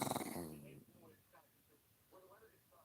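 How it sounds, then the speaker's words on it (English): A grumpy pet dog growls low and rough, loudest at the start, then trails off into quieter snorting, breathy rumbles close by indoors. "My dog is being mean. She's so grumpy."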